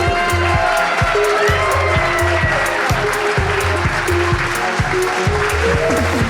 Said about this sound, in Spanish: Creo que va a ser el mayor aplauso de la noche para ti.